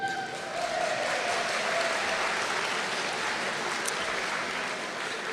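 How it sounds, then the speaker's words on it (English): Sustained audience applause at a volunteer appreciation breakfast, a dense, steady clapping from a room full of people that holds evenly for several seconds without speech. "let's have a big round of applause for Tony King"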